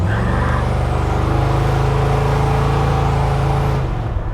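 1955 Chevrolet Apache pickup with a 502 big block and four-speed automatic cruising at about 60 mph, a steady deep engine hum and road noise heard from inside the cab, easing off at the end.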